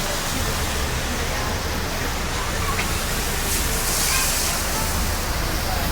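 High-pressure washer spraying water against a building wall with a fan tip, a loud, continuous broadband hiss that holds steady for the whole stretch, with no voices over it.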